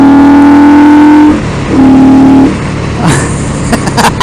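An Indian Scout Bobber motorcycle engine revs hard twice, each loud blip of throttle rising sharply then dropping away, followed by a rougher burst of engine and wind noise close by.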